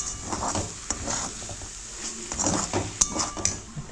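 Cabbage is stirred in a cooking pan over a low gas flame, with clattering metal-on-pan scrapes and clinks in a quick, uneven rhythm over a faint background hiss.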